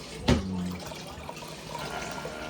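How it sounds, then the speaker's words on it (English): Water pours into the water pan of a smoker while ribs are being prepared, a short splash and then a steady, soft trickling stream. "Put a bit more water in there, because as it smokes,"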